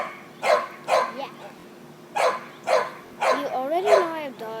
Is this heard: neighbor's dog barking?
yes